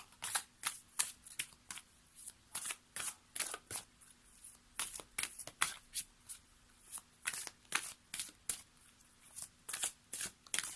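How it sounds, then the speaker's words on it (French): Oracle cards for a daily card reading being shuffled, a rapid series of crisp riffling bursts repeating in a steady rhythm, close and clear with no talking. "Et on va terminer cette vidéo avec une carte Murmure de Ganesh."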